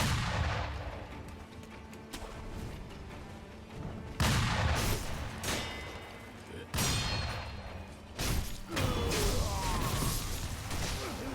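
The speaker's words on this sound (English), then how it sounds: "Who left all their fucking fantasy firecrackers over here?" Firecrackers crackle in Sekiro: Shadows Die Twice as a series of sharp bangs and crackling bursts spread across the stretch, moderately loud amid game ambience.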